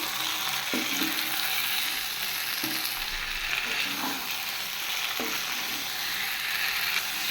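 Fried vegetables being stirred into Bombay duck fish frying in a pan, a steady close sizzle with occasional scraping stir strokes, and no talking.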